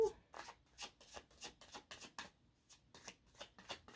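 Tarot cards shuffled by hand in a steady run of about a dozen quick riffling bursts, close and fairly quiet, with brief pauses between them and no talking.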